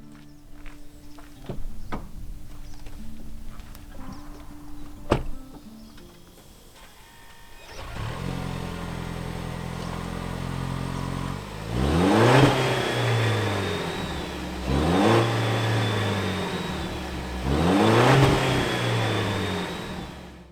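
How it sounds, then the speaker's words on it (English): A 2025 Toyota Tacoma pickup engine idles with a deep exhaust burble, then revs up sharply three times, each rise and fall loud and close from outside. "we're going to start with the exhaust note"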